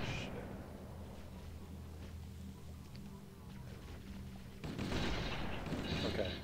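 Gunfire crackles through a video game shootout with sniper rifles, shots sounding as bursts and booms over a steady din, growing louder in the final seconds, with players talking faintly.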